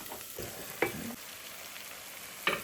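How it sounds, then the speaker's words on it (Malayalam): Chicken pieces fry among sautéed onions in a pan for palak chicken, giving a quiet, steady sizzle with a few sharp stirring clicks near the start and end. "ഇനി നമുക്കിതിൽ ചിക്കൻ ഇട്ട് കൊടുക്കാം"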